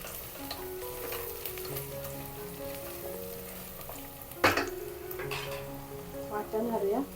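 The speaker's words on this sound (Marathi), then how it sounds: "चला छान मस्त हलवून घेऊया फोडणी चांगली होते" Oil sizzles steadily in a pan while a spoon stirs and scrapes homemade spices for tempering, with a louder clatter midway and a voice talking faintly underneath.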